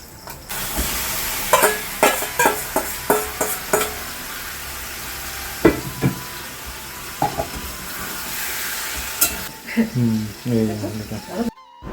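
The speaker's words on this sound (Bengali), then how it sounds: "এখানে ভালো করে আমি এটা মানে কষিয়ে নিচ্ছি" Spices and onion sautéing in oil in a pan, a constant sizzle broken by repeated rhythmic scrapes and knocks of a stirring spoon, with a person talking over the cooking.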